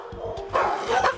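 Dogs bark in rapid repeated bursts inside an animal shelter, loud and close, with a louder volley of overlapping barks near the end over a reverberant kennel background.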